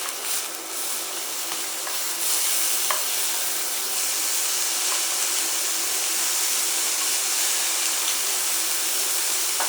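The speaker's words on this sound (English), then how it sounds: "It's really important not to move the steak around the pan, don't press it, just let it cook." Steak frying undisturbed in a hot pan produces a loud, continuous hiss of sizzling fat, with a few faint crackles and pops scattered through it.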